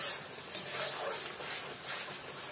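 Onion paste for a chicken curry fries in hot oil, a continuous close sizzle and crackle with gentle stirring scrapes and one small clack early on.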